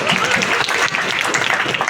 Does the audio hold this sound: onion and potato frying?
no